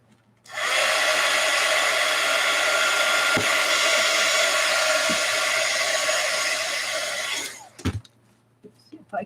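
A heat tool blowing hot air onto painted drop paper, a loud steady whooshing roar that starts abruptly, holds for about seven seconds, then cuts off, followed by a few light knocks.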